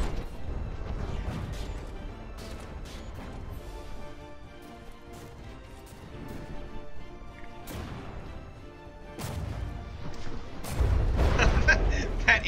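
Naval gun volleys from warships in the From the Depths game tournament battle, heavy booms and crashing impacts recurring irregularly over a steady rumbling background, growing louder near the end.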